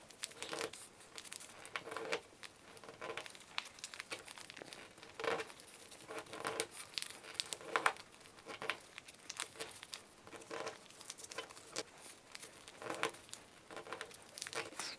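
A sheet of paper being folded into a Star of David, with soft crinkling and creasing sounds coming in irregular bursts, fairly quiet and close, with short pauses between folds and no one talking.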